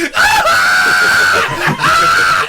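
A voice imitates an animal screaming with two drawn-out, high, strained cries, the second after a short break. It sounds close and loud, with no other sound behind it.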